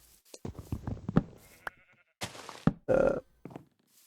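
Sheep bleating in Minecraft, several short bleats close and clear with gaps between, mixed with soft game footsteps and clicks, no talk.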